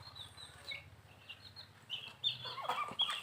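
A large Thai mother hen clucking softly, a low rhythmic murmur at first that gives way to sharper, higher calls later, near and fairly quiet, with no talk.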